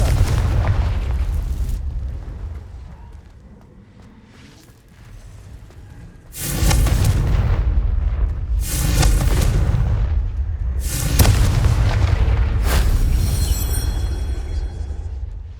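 In a video game, the Confringo fire spell sets off a series of loud, deep booming explosions, with about four heavy blasts in quick succession after a rumbling buildup.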